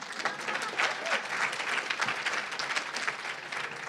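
Sustained audience applause filling a forum event hall, dense steady clapping from many hands holding at an even level throughout with no speech over it.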